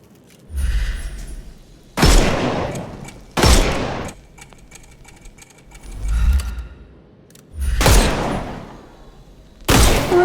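Gunfire in the Sherlock Holmes Chapter One game, shooting armour off enemies: loud bursts of shots come in separate volleys about every one to two seconds, with quiet gaps between them.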